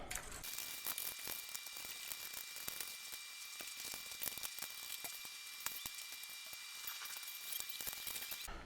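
Strings being tightened on a Floyd Rose-equipped guitar, giving a steady run of fine metallic clicks and ratcheting ticks, close and fairly quiet, continuous throughout with no voices.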